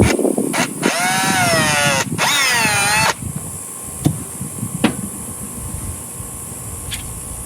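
A power drill whines loudly while drilling a hole for an eye bolt, its pitch sweeping up and down in two long bursts, then stops, leaving a few light clicks and knocks.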